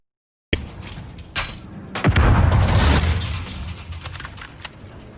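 A grenade goes off during a video game gunfight as a loud, booming blast with a rumbling tail, after a few sharp gunshots and pops close by.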